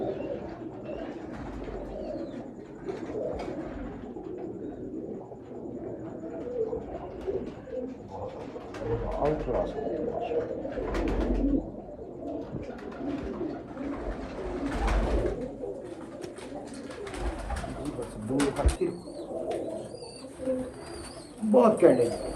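A flock of Bankay pigeons coos steadily and softly, close by, while people talk over the birds through much of the stretch.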